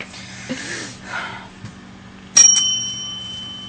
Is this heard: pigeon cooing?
no